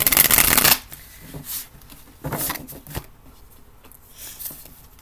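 A burst of oracle card shuffling opens, followed by several softer riffling and tapping bursts as the cards are handled up close.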